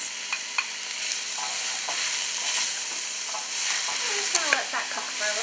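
Chopped celery and carrots sizzling in a pot for spicy chicken soup, a steady bright frying hiss broken by clinks and scrapes of stirring.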